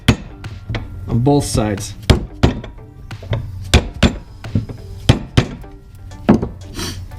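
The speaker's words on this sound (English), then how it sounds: "you can get a screwdriver and just get it between that gap and give it a little tap" Screwdriver tapped into the gap of a Honda Civic EG Hasport motor mount bushing to split it, giving several sharp metallic taps spread unevenly through the stretch, close and fairly loud, with a person talking between and over the strikes.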